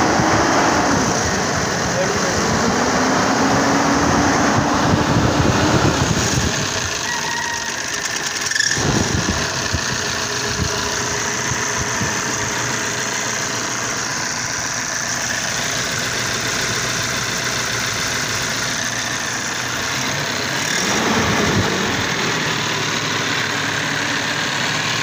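A 1992 Toyota Hilux Surf engine idles steadily with a low continuous rumble throughout, while someone talks over it for part of the time.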